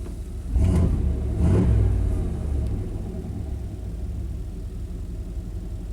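A 1991 Chevrolet K1500 pickup truck engine idles at low revs as a steady, close low rumble, swelling briefly near the start before settling into an even drone.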